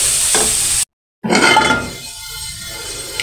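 Food sizzles loudly in a pan for Ramzan chicken bread pockets, cut by a brief moment of silence before the frying resumes with a clink and then fades softer.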